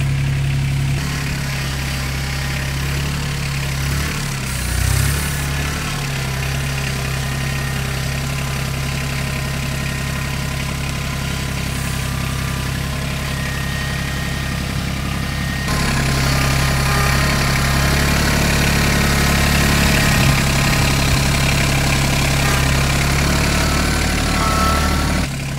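A tractor engine runs steadily at a low, rumbling idle while the tractor drives its rear wheels onto homemade ramps, growing slightly louder partway through.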